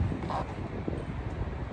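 Strong wind of over 20 mph roars continuously against the microphone outdoors, a dense rumbling gust with no pauses and no clear voices.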